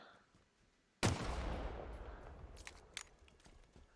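A landmine detonates in Halo Forge with one sudden loud blast that rolls off into a long decaying rumble, followed by a few faint clicks and taps.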